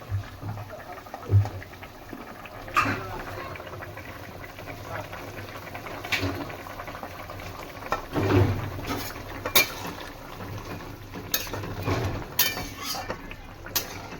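A pot of Bengali fish curry broth with chela fish and fried eggplant boils with a steady bubbling simmer, broken by occasional clinks and scrapes of utensils against the pot.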